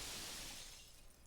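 Glass shatters and breaks apart in the heist video game Payday 2, a single faint crash with a bright, hissy burst that decays over about a second, with no one speaking.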